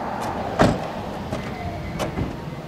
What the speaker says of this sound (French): Porte coulissante automatique.